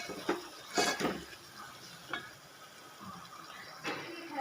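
Spatula scraping and stirring moth bean sprouts with turmeric, chilli powder and salt in a pan, a few scattered clinks and scrapes spaced apart, close and moderately quiet.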